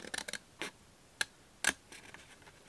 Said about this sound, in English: you're gonna take your scissors and you're gonna go all the way up